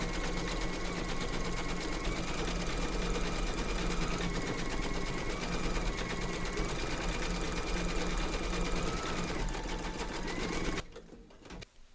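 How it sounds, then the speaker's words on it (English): A sewing machine stitches an embroidery round in dark brown thread for a fence on a Rise N Shine table runner, a steady close whirring drone that runs without pause, then stops near the end. "Load your thread colour for the fence into your machine and then stitch round number 7"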